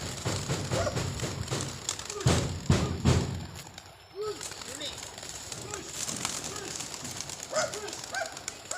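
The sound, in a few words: racing pigeons cooing at Agas-Agas Bridge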